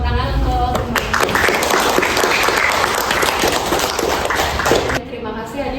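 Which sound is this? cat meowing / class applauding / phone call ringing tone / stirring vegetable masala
class applauding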